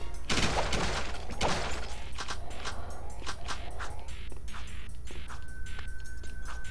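Rapid gunfire and bursts of shots in the Jak II video game, a busy, dense stretch of repeated firing with clattering impacts, steady and fairly loud throughout.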